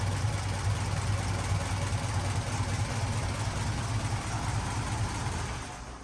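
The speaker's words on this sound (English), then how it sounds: "It looks like the plugs are hitting boom, boom, boom, boom, boom, boom." 1931 Ford Model A engine fitted with eight spark plugs running at a fast idle, a close, steady rumbling chug with an even rapid firing rhythm throughout, fading slightly at the end.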